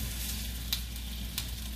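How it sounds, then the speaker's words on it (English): A test piece of potato sizzles in a frying pan, a faint, steady crackle with a couple of brief pops. "my test tater is sizzling away"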